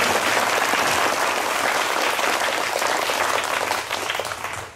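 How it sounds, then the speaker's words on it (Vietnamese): Children give a big, loud round of applause at a summer youth gathering, a dense burst of clapping that holds steady for several seconds before easing off at the end. "Tụi con vỗ một tràng vỗ tay thật lớn để mở đầu luôn nha"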